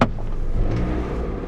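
A used car's engine cranks and catches at a car auction, then settles into a rough, rumbling idle heard up close, with a brief sharp burst at the start.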